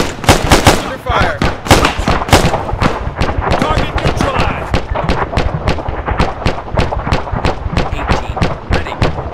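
Arma 3 gunfire keeps up a dense run of rapid shots and distant booms. Voices shout over it throughout.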